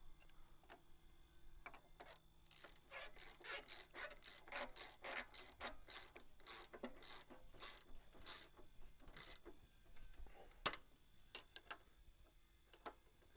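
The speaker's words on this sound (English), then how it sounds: "we have to actually tighten and torque the top stop bolts before we do any on the any of the stop side bolts" A wrench ratchets in quick rhythmic strokes while tightening stop bolts on a Split-Fire log splitter, close and fairly quiet, with pauses and a few sharp metallic clinks toward the end.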